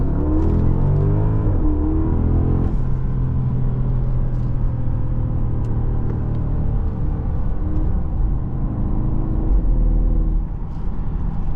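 A 2020 Porsche Panamera Turbo S E-Hybrid accelerating hard, its engine note climbing in pitch, then settling into a deep, steady rumble with road and wind roar from inside the cabin.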